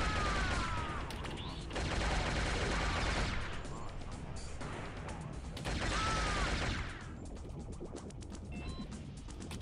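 Gunfire in the PC shooter Shogo: Mobile Armor Division, heard as bursts of rapid shots and crackling blasts over a steady noisy background, with a few quieter pauses between volleys.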